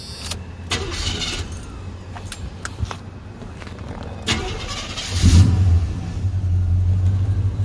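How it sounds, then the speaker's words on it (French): A 1986 Chevrolet C10 pickup's engine cranks and starts, with clicks and handling noise before the start, then catches and settles into a steady low, fairly loud running rumble close by. "en parlant de son, on va le mettre en marche"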